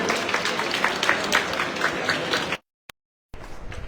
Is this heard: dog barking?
no